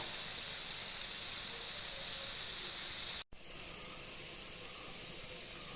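Dried shark pieces fry in hot oil, giving a steady, dense sizzling hiss that stays loud and even throughout, apart from a brief cut to silence just past the midpoint.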